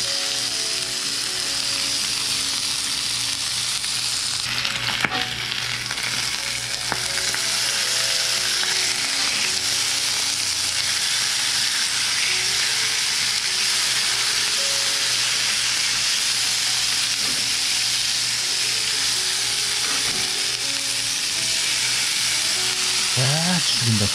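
Samgyeopsal pork belly sizzling in a pan, a loud, continuous hissing fry close at hand, steady for the whole stretch, with a brief clatter near the start and a faint voice at the very end.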